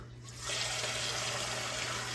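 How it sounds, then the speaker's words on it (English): Water runs from a tap into a container while making a vinegar pickling brine at home, a steady faint gushing fill starting softly and then holding constant, with a low hum underneath. "We're going to add a little water."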